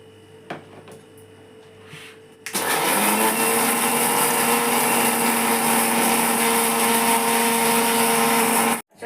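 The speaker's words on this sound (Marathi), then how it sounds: "इथे सर्वात प्रथम आपण पोहे बारीक करून घेऊया" A mixer grinder starts after a couple of quiet seconds and grinds poha (flattened rice) with a loud, steady high-pitched whir for about six seconds before abruptly shutting off.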